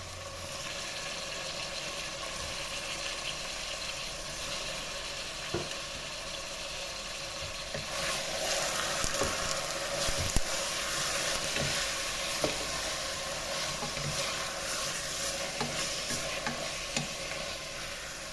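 Chicken pieces fry with onion in a pan, a steady loud sizzle that continues throughout, with occasional stirring clatters close by and no talking.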